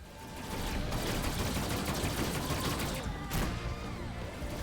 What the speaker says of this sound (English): Those dumbfire missiles are impossible!